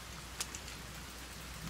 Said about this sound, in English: Hey, more rain. Sweet, sweet rain.